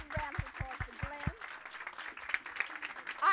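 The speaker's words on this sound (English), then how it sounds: "give a round of applause for Glenn" A small group's scattered applause for Glenn, modest and fairly distant, heard after a few short voiced sounds at the start and continuing thinly to the end.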